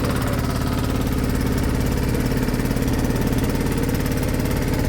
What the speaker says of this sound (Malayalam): പ്രകൃതിരമണീയമായൊരു ബോട്ട് യാത്രയായിരുന്നു